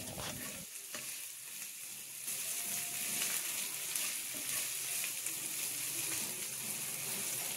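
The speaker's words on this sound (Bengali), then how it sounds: "এবার ঠিক একইভাবে আদা বাটাটাও আমি একটু সময় ধরে ভেজে নিব" Ginger paste fries in a pan for a fish bhuna, a continuous close sizzle that swells louder partway through and keeps going, with light scraping from stirring and no talk.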